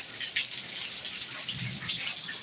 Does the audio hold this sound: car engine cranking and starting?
no